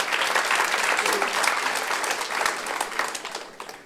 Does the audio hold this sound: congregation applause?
yes